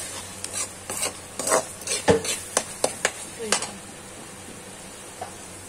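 Spice masala frying in oil for an aloo parwal curry, heard as a quick series of spoon scrapes and stirring knocks in the pan over a faint sizzle, fading to near quiet at the end.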